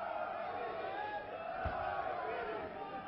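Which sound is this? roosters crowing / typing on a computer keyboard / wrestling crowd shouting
wrestling crowd shouting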